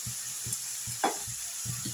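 Frying food seasoned with turmeric powder and salt sizzles faintly in a pan while a utensil stirs it in short, rhythmic scrapes, close and steady for a couple of seconds.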